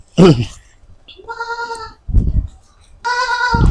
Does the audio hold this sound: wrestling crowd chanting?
no